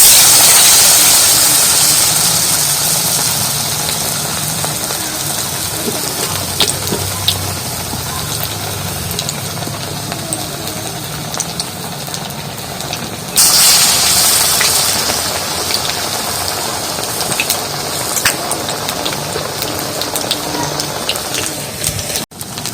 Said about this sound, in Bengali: আস্তে আস্তে জাল দিয়ে সব ভেজে নেবো।